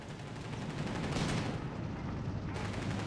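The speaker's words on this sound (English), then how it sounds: "Oh, this machine gun as well." Machine gun fire from a Company of Heroes 3 match rattles on in a dense, continuous burst mixed with distant battle rumble, steady and moderately loud, with no voices.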